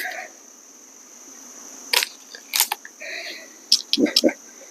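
Diana 250 air rifle firing outdoors, a sharp crack and several short impact sounds, close and clear against a quiet background with some faint voice.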